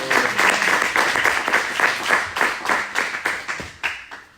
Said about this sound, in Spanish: De un aplauso al Señor en esta preciosa noche